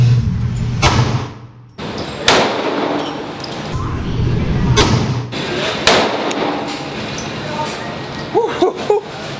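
Desert Eagle pistol fired at a shooting range, several loud, heavy gunshots spaced a couple of seconds apart, each with a sharp crack and a lingering boom, with people talking faintly in between.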